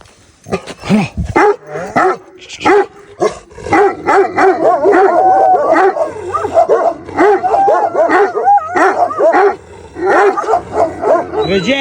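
A dog barks and yips repeatedly up close, mixing short barks with whiny, whimpering howls in an excited, uneven run.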